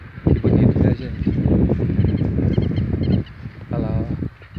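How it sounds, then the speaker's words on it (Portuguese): Guinea fowl calling on a farm in the late afternoon, harsh repeated cackling bursts close by in several pulses, with a voice talking over them. "É galinha da Angola, né, que fala."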